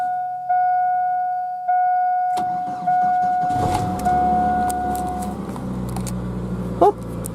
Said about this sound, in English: But let's see if it will actually start.